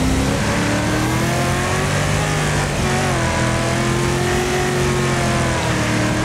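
Race car engine in the racing game Wreckfest, loud and close, holding a steady high drone that slowly climbs in pitch as the car accelerates, with no talk.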